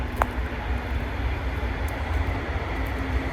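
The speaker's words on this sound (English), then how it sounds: "Another train." A train passing outdoors makes a steady broadband rumble with a low hum, holding an even level throughout.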